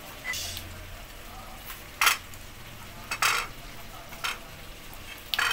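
A spoon scrapes and mashes soft food against the sides of a metal cooking pot while a thickening broth is stirred. Several sharp clatters come in uneven bursts over a quiet background, with no talking.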